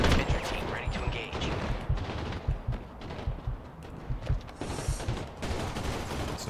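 Shooting in the game Crime Boss: Rockay City comes as a run of sharp shots and short bursts, irregularly spaced and fairly close, over a busy background din.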